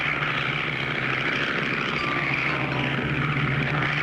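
A propeller airplane drones steadily as it flies low over canals in a 1959 cartoon, a constant close engine hum without a break.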